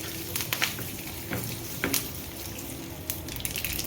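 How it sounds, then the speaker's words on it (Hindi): Curry leaves and white sesame seeds sizzle in a little hot oil, a steady soft frying hiss dotted with small pops and crackles, close and fairly quiet. "इसको हल्का सा सौते कर लेते हैं।"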